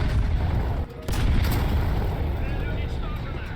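A tank fuel explosion in War Thunder, apparently hitting a Leclerc: a loud, dense rumbling blast with a sharp burst near the start, holding steady under a roaring, booming wash of battle noise.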